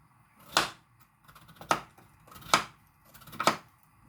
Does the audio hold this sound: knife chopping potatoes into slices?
yes